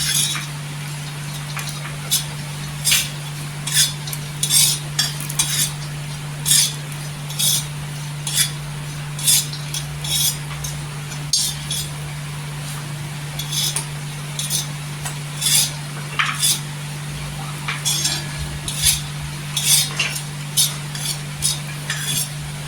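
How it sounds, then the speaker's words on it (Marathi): A utensil scrapes and stirs ingredients dry roasting in a pan until golden for homemade dry fruit laddoos, with irregular clinks and scrapes over a constant low hum. "गोल्डन कलरवर भाजून घ्यायचं."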